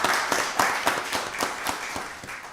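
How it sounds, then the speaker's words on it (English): Audience applause at a county board of commissioners meeting, a sustained wash of many hands clapping with faint scattered voices beneath, steady and fairly close for the whole stretch. "Give them a round of applause"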